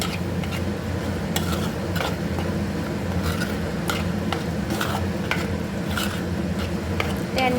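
A prawn curry with tamarind water is stirred in a pot, a continuous wet bubbling sizzle under repeated scraping clinks of a spoon against the metal, close up and steady with no talking.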